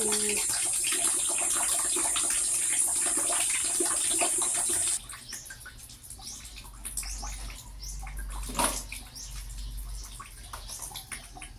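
Water runs steadily from a tap into a container for a few seconds, then drops to a thin, faint trickle from weak flow, with a brief splash partway through.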